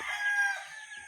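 Rooster crowing with chickens among backyard fowl on a farm at morning, a single bright sustained crow lasting about a second, loud and close with no talk.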